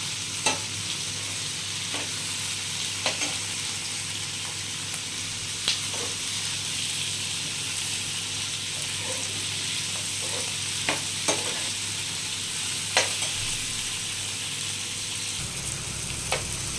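Onions, tomatoes, garlic, green chilies and cashews roasting softly in a pan on a gas stove, with a steady low sizzle and occasional sharp stirring clicks from a spoon, no talking.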